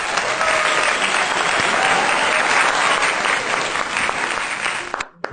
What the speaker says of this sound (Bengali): সবাই ওর জন্য একটা হাততালি দাও।